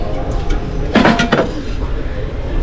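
A large, heavy metal frying pan clanks and scrapes briefly as it is handled in an IKEA store, a short cluster of clatter amid shop background noise.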